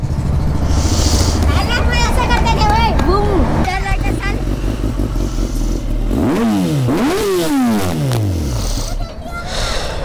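A Kawasaki sport motorcycle engine revs hard in rising and falling sweeps, with a steady idle rumble underneath. Voices and crowd chatter run throughout.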